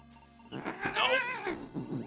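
Cat caterwauling and meowing from a Metroid Planets Enigma game, a wavering, yowling cry rising in the middle and trailing off, loud and close with no talking.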